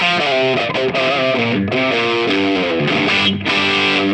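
Electric guitar played through a JHS PG-14 distortion pedal into a clean plexi-style amp, a thick saturated riff of sustained chords and moving notes with brief gaps, loud and up front with no talk.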